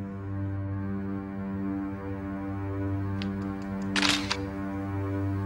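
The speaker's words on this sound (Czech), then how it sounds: "To tě ten zvuk vyděsil? To nic, pusinko, to je jen foťák." A camera shutter clicks once, a short sharp burst standing out against a steady low electrical hum in a quiet indoor room, preceded by a couple of faint small ticks.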